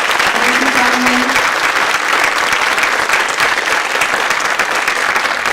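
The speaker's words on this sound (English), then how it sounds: "So please give a big applause again." A conference audience at an international language-center round table gives sustained, dense applause, loud and even throughout, with many hands clapping together and no speech over it.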